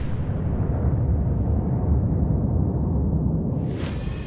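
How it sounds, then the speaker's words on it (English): Ammunition inside a BMP infantry fighting vehicle detonates after a drone strike, a loud sustained roaring blast of deep rumble that fills the whole span and tails off near the end. "Drone strikes BMP, precisely causing an enormous detonation of the ammunition."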